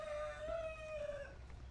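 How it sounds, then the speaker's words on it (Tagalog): A native chicken on a farm crows in one long drawn-out call, faint and somewhat distant, over low background farmyard noise. "Ito yung livestock namin, mga native chickens."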